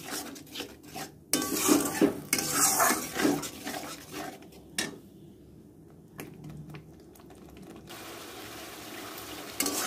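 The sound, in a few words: stirring and frying spice paste in oil in a pan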